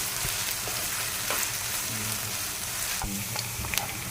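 Onions with ginger garlic paste frying for masala dosa filling give a dense, steady sizzle up close, with scattered clicks and scrapes of stirring through it.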